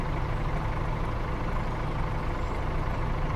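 Tractor engine in Farming Simulator 22, held at high revs during haymaking on a northern farm map, a steady loud drone with a low rumble and no break, alone without talk.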